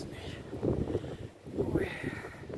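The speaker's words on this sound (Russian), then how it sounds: "Вот, вот такое ветрище ужасный." Strong gusting wind in Siberia swaying a spruce tree, rushing in two loud surges close to the microphone, with someone talking faintly under it.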